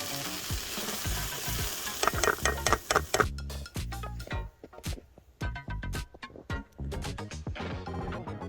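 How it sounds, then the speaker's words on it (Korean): Spinach being lightly stir-fried in a pan for a stuffed salmon roll filling, with a steady close sizzle and repeated spatula scrapes and taps in an irregular rhythm, with no talking. "시금치는 살짝만 볶아주세요."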